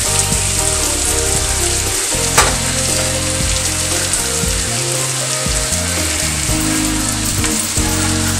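Garlic pieces fry in a hot pan in a home kitchen, giving a loud, steady sizzle and crackle that runs unbroken from start to finish with no talking.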